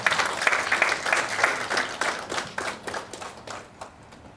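An audience at a curriculum launch event applauds after a speech, with steady dense clapping that gradually thins toward the end.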